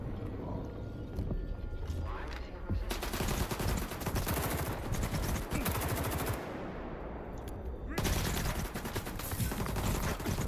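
Gunfire in S.T.A.L.K.E.R. 2: Heart of Chornobyl, long stretches of rapid automatic fire with a dense crackle of shots and only a short lull, loud and close throughout with no talking.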